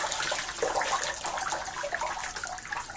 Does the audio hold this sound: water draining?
yes